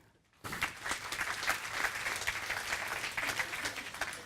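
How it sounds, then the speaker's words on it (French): Steady applause from a crowd starts abruptly after a brief silence and continues at an even, lively level with dense overlapping claps. "On l'applaudit aussi"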